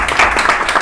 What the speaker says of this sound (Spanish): Te voy a aplaudir